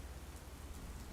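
Steady rain falling, a soft continuous wash of patter, faint and even throughout, with no talking.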